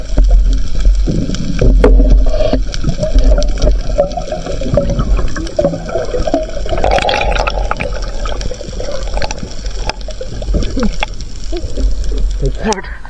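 Rough, choppy sea water slaps and churns around a small fishing boat in a strong current, a dense, loud rushing wash with splashes throughout while people talk over it.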